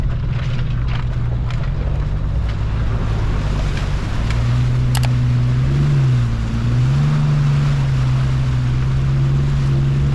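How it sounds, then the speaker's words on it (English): A Turbo Barra 80 Series Land Cruiser drives off-road through river crossings, its engine droning loud and close with rising and falling pitch under a constant rush of churning water and wind. "we're going to keep cruising back towards camp now, back through all these river crossings"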